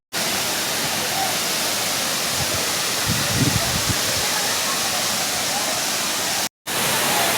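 Sawdav waterfall roars as a steady, dense wash of falling water, loud and unbroken throughout, with a faint voice briefly audible beneath it and a momentary dropout near the end.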